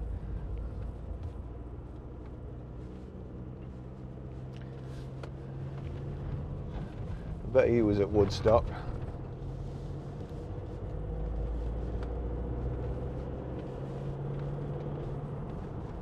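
A low, steady engine drones throughout as a 2021 Ford Transit Custom 2.0 EcoBlue van drives up a hill, with a brief burst of speech partway through.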